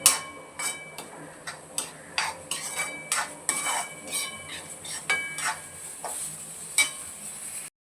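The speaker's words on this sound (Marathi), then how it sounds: "आता आपण मिक्स करून घेऊया." A spoon stirs and scrapes through Khandeshi-style eggplant bharit mixed with crushed peanut powder in a metal pot, giving a steady series of close clinks and taps, about two per second, with no talk.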